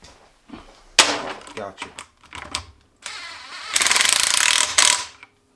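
A small pneumatic air gun runs in loud bursts, tightening bolts on an AWD transmission during a DIY rebuild. A long burst near the end is followed by a shorter one, with someone talking briefly before them.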